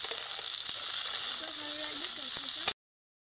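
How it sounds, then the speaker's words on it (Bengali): Yardlong beans fry in a kadai, giving a steady, close, bright sizzle that runs unbroken for under three seconds before cutting off, with a faint voice murmuring underneath. "বরবটিটা হালকা আছে কড়াইতে ভাজা হতে হতে"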